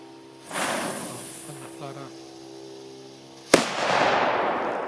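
A firecracker burns with a hissing green flare for a few seconds, then goes off in one sharp, loud bang followed by a lingering crackle and hiss, recorded outdoors with brief voices in the background.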